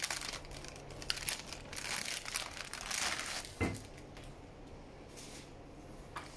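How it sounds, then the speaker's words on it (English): Water spinach stems being cut and handled for a Thai stir-fry, heard as a steady stream of close crinkling, snapping and rustling for several seconds, with no talking. "Okay, we're going to cut and wash it first."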